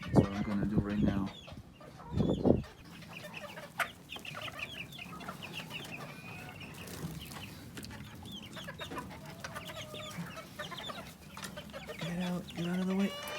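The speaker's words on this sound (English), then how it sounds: "Here I have my bantam chickens." Bantam chickens on a small farm cluck steadily in the background through the whole stretch, with one louder burst early on and a person talking intermittently over the birds.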